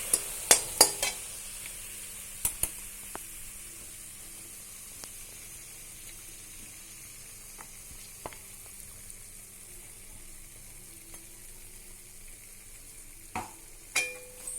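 Bread crumbs frying in a pan for bread halwa, a faint steady sizzle through the whole stretch, broken by a few sharp scraping and stirring clicks near the start and end, with no talking.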